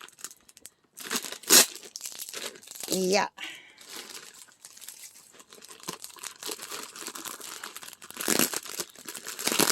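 Crinkling and tearing of a plastic bag being opened, with rustling bursts and a sharp rip, under a brief spoken word and some background talk.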